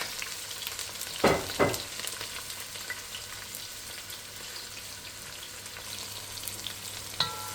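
Vegetables frying in oil in a pot, a soft continuous sizzle with a couple of louder stirring scrapes near the start and one more toward the end.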